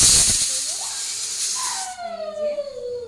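A pressure cooker of khichuri with rice and lentils vents a loud rush of hissing steam, which fades into a wavering, rising whistle, close and without talk.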